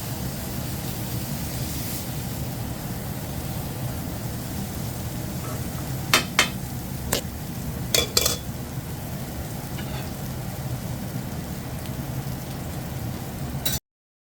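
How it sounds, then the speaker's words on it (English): Leftover buttery mashed potato cakes fry in a pan with a steady, close, even sizzle throughout, broken by a few brief sharper crackles and pops near the middle. "They're sizzling."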